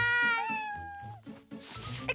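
A cartoon cat lets out one long, drawn-out meow close by, its pitch sliding downward, followed by soft rustling and shuffling noises.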